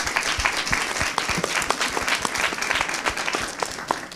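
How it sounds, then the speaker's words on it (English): An audience applauds candidates at a Detroit mayoral debate, giving a dense, steady burst of clapping that holds at an even, loud level throughout, with no talk over it. "Let's give our candidates a round of applause."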